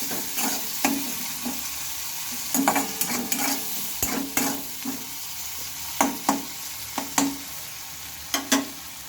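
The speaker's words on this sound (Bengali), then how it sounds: "টমেটোটা দিয়ে একটু ভালোভাবে নেড়ে চেড়ে নিচ্ছি" Fried rice with chopped tomato stirred in a pan, a utensil scraping and clacking in irregular bursts over a soft, steady sizzle of frying, close and fairly quiet, with no talking.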